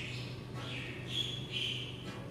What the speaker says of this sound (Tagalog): Naririnig pa yung mga awit ng mga ibon.